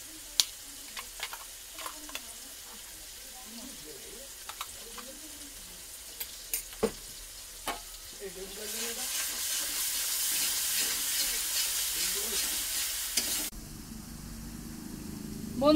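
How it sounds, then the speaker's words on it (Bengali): Onion, ginger and garlic paste sizzles in a pan, a quiet frying hiss with sporadic sharp ticks and scrapes of stirring that swells into a louder, steady sizzle partway through, without any speech. "আদা রসুন পেস্ট দেওয়া হচ্ছে, লাল লাল করে এবার ভেজে নেওয়া হবে, একটু কষে নেওয়া হবে।"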